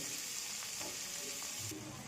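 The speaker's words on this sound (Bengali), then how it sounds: "দেখো পেঁয়াজ আর টমেটোটা ভাজা ভাজা হয়ে গেছে" Chopped onion and tomato fry in a pan with salt, giving a soft, continuous sizzle with faint stirring scrapes and no talking.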